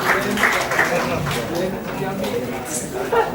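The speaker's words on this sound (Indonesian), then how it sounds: "Tepuk tangan lagi, yang semangat." An audience at an IT conference session on eCommerce applauds, a broad wash of clapping throughout with a presenter's voice faintly underneath.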